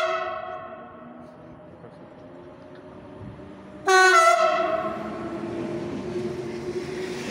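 A loud train horn blasts suddenly partway through, sustained and harmonic, over a low rumble of railway noise; quieter hum before it.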